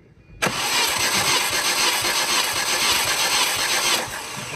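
A MINI Cooper engine cranking on the starter during a compression test, beginning abruptly after a short quiet moment and continuing as a loud, steady, rhythmic churn for about three and a half seconds before easing off.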